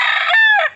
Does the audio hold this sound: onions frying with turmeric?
no